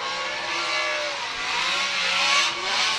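Drift cars of Chris Forsberg and Matt Field, a CX Racing S14 among them, on Hankook tires at a Formula Drift round in Miami: loud, sustained engine howl with high-pitched revving and tire squeal, swelling and dipping, with no talk.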